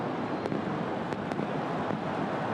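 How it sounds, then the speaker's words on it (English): Fireworks bursting over a football stadium during a Vissel Kobe versus Tottenham Hotspur match in Japan, heard as a few sharp distant cracks over a dense, steady roar of crowd and open-air noise. "There's seen plenty of fireworks down there on the field so far"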